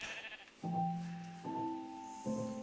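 Sheep bleat in a video game farm area, three distinct tonal bleats following one another at close to moderate distance, each a wavering voiced call, with no talk over them.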